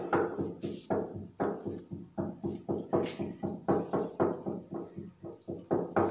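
Workers nearby pound steadily in a repeated rhythm of sharp, resonant thuds, roughly two per second, each ringing briefly before the next strike, moderately loud and without speech.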